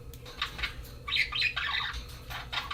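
Pet bird squawking and chirping indoors in a short run of close, bright calls and squawks, with no talk over it.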